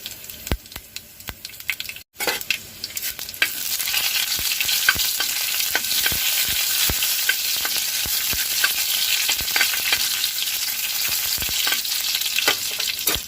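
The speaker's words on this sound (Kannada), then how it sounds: "ನೋಡಿ ಈಗ ಸಾಸಿವೆ ಸಿಡಿತಾ ಇದೆ." Mustard seeds crackle in hot oil with dry red chillies, curry leaves and garlic for a spinach dal tempering, a dense sizzle with sharp pops throughout, close and fairly loud, briefly interrupted early on.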